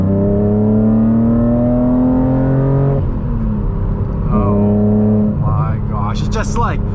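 A 2006 BMW Z4M pulls hard through the gears from inside the cabin. The loud engine note climbs steadily, drops at the shift into third, then rises again with a rising whine. A voice talks over it.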